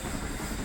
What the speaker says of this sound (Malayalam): ആ ഗുഹയ്ക്കകത്തുകൂടെ ഇപ്പം ട്രെയിൻ കയറും.